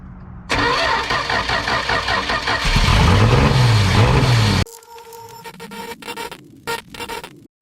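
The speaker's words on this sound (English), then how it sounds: "About to try to get her fired up, see what she sound like." A 1971 Dodge Dart, after sitting for years, cranks and catches into a loud engine start, then drops to a rougher, quieter running sound with some clattering.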